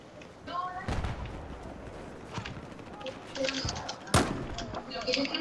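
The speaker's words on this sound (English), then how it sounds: "And they're mortaring now." Mortar fire in Battlefield 4 on Operation Locker, a few sharp distant-sounding impacts and blasts scattered across a busy game soundscape, with a person talking over it.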